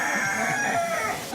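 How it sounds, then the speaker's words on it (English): Rooster crowing in a Moroccan cooking setting, one drawn-out cock-a-doodle-doo filling the whole short moment, fairly close and clear with no talk over it. "If that rooster crows one more time"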